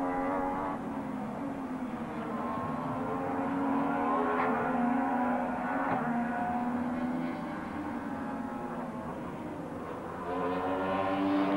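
ITC touring race cars at Diepholz in 1996 run over plastic curbs, their engines making a steady, droning roar at a moderate distance that swells and fades slightly as they pass.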